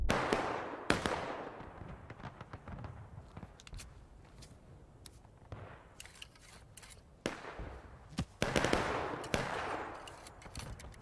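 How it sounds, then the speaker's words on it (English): Gunfire in the Civil War multiplayer game War of Rights, with repeated sharp musket shots, some close and loud and others more distant, scattered irregularly across the scene. "They're shooting us from the southwest."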